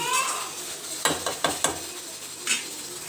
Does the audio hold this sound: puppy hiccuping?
no